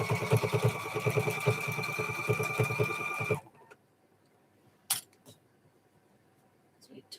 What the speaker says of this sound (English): I use my serger and sewing machine.